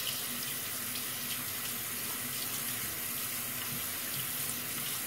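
Tap water running steadily into a sink while hair is washed with ketoconazole shampoo, a constant close splashing hiss with no talk.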